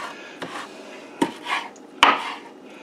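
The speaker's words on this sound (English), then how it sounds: "Try to get it chopped up best as possible." Knife blade chopping fresh cilantro on a board for homemade corn salsa, a few sparse, sharp knocks spread over the moment, close and moderately loud with soft rustling between strikes.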